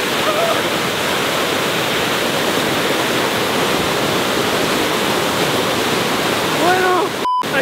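Loud, steady roar of a waterfall in the Amazon jungle, broadband rushing water filling the whole clip, with a brief burst of whistling tones near the end.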